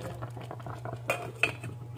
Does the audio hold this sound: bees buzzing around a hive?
no